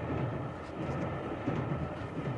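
A train carriage rolls along on a rail journey in France, producing a steady, close interior rumble and hiss without clear wheel beats.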